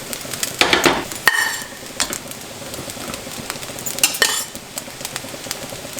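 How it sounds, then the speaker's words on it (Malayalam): A utensil scrapes and clinks against a pan while rice and vegetables are stirred together, with a few distinct metallic scrapes over a soft background sizzle. "റൈസ് വെജിറ്റബിൾ അങ്ങനെ മിക്സ് ചെയ്ത് കൊടുക്കുക"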